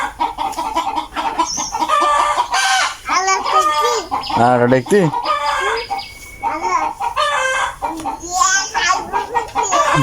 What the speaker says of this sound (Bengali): বলো মুরগি না, বলো